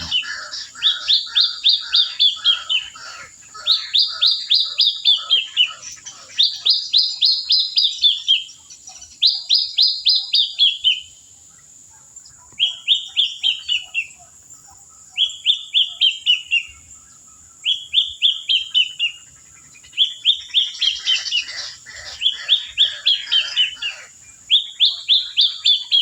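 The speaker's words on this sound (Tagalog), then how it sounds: "nakita ko ibon. Yan ang ingay." Repeated bright bird song at an outdoor hunting spot, a bird calling in short rapid chirping bursts about every two seconds, clear and fairly close against a steady high insect-like hum.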